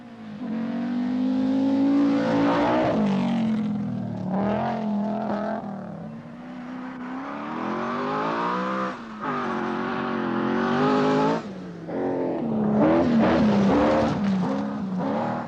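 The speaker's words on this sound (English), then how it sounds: "The cars made their way through damp Argyll with the prospect of a long drive ahead." Rally cars from the 1983 Arnold Clark Scottish Rally driving a damp stage in Argyll, engines revving and shifting pitch continuously as they accelerate and pass, loud and close throughout.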